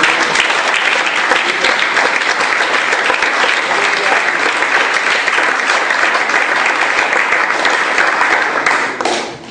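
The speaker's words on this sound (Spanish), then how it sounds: "Ahora un aplauso, que Él nos ama." A church congregation bursts into loud, dense applause that holds steady for several seconds before tapering off abruptly at the end.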